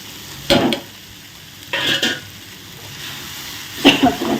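Cooked rice stirred in a pan on low heat, three distinct bursts of scraping and soft sizzle spaced a second or two apart, close and fairly loud with no voices.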